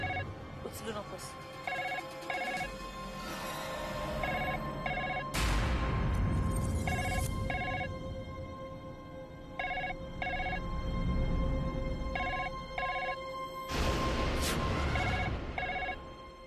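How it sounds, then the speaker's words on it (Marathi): An indoor telephone rings in repeated paired trills, steady and moderately near, with background noise and sudden loud bursts between rings. "आतला फोन वाजत होता."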